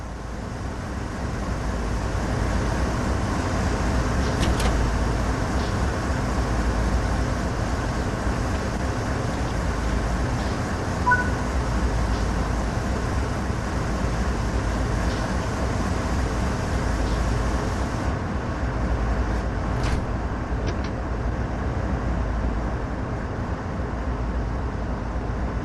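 Idling U.S. freight locomotive in the TRAIN3 simulator game, a steady low engine rumble with a constant hum, continuous and even throughout with faint occasional clicks.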